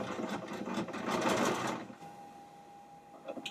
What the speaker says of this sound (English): fold it in and sew the bust binding to the pocket